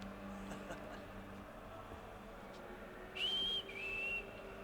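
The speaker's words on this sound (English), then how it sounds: "Sounded like my whistle." A short two-part whistle, a higher note followed by a slightly lower one, sounds over low ambient game noise in Assassin's Creed III, fairly faint and brief.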